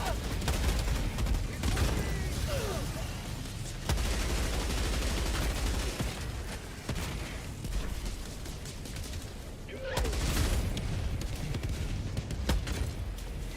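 An expendable machine gun rattles in Helldivers 2, firing steady sustained bursts with heavy booms and short pauses, loud and close throughout.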